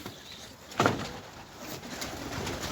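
Pigeons in a loft coo softly against a steady background hiss, with one brief louder call rising near the start.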